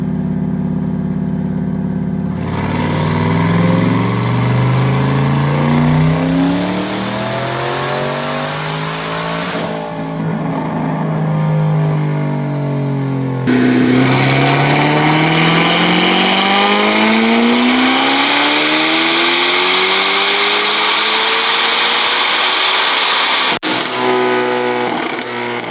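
Two modified Chevrolet C8 Corvettes, a ZR1 and a 1000 hp Stingray, roar loudly on a dyno, their engines sweeping up through the revs in long, rising pulls, with gear-change drops between them and a sharp cut near the end.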